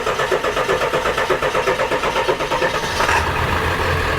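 A 1978 Econoline cruising van engine cranks in a loud, rhythmic chug for about three seconds, then catches and settles into a steady running rumble. The sound is close and alone.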